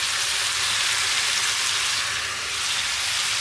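Chicken and pork adobo with pineapple and caramelized onions simmering in a pan, a dense, steady bubbling sizzle, close and continuous with no talk.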